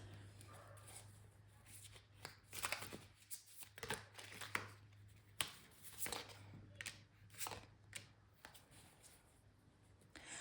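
Tarot cards are handled and shuffled in a quiet room, giving soft, intermittent papery swishes and taps with short pauses between them, over a low steady hum.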